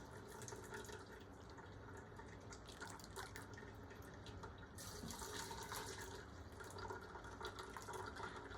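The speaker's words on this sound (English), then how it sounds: "So I'm going to continue to get all of this rich, delicious broth into my pan." Rich chicken broth strained through a sieve into a pan, a steady trickling and dripping of liquid running continuously and fairly close, with a slightly fuller splash partway through.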